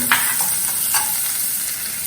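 Butter melts and sizzles in a pan for soup, a loud, close frying hiss with a couple of sharp stirring scrapes near the start.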